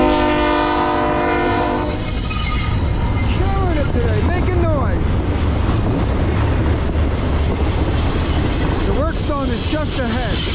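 CSX freight train passing on the Lehigh/Conrail line, led by locomotive 3072, with a sustained loud horn blast at the start, then continuous rumble of rail cars and wheel squeal through the rest.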